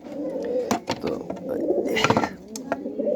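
Pigeons, including a black-faced and a red female, coo steadily in low, rolling phrases close by, with someone speaking over them and a few sharp knocks between.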